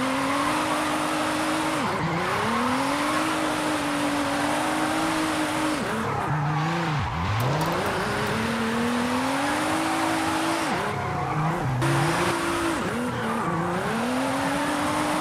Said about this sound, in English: I am struggling to maintain drift line because this car is not getting enough power from third